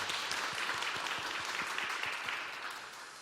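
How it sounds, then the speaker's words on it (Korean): Congregation in a church service applauding after the choir's hymn, a soft, steady patter of many hands clapping that fades slightly toward the end. "우리 다시 한번 박수로 격려하겠습니다."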